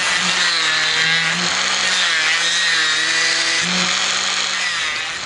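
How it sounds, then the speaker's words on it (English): A Dremel rotary tool cuts slots into a wooden swimbait lure body, a loud, continuous high-pitched whine that dips slightly in pitch as the bit bites into the wood, heard close and alone. "I'm going to start by cutting out the slots with the Dremel tool."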